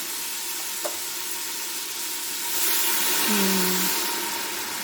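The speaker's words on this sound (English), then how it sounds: "I'm going to go ahead and put a little bit of the stock that I'll be using for the soup to deglaze what's at the bottom of the pan" Stock for lentil soup poured into a hot pan to deglaze it, a soft hiss rising and holding as steady sizzling, moderately loud, with a faint tone under it and no speech.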